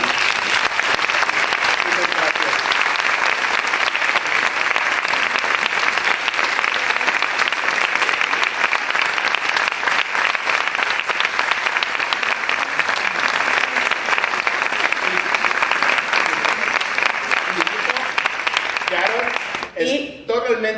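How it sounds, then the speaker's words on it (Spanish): Loud, sustained applause from a large crowd, dense and even throughout, breaking off abruptly just before the end as voices emerge. "Creo que se merece un fortísimo aplauso"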